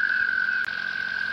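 Toads in a shallow spring pond give a steady high-pitched trilling call, one continuous sustained note close by with a faint chorus behind it.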